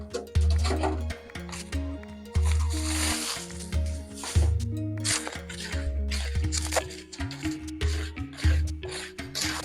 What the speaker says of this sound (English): As you stir in, you can see that the groundnut is cleaning itself on the pan.